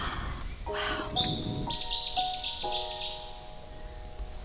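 Bright, clear bird calls chirp and whistle in quick repeated phrases, fairly close, over a soft hiss of background ambience, on a rural homestead in Portugal after summer rain.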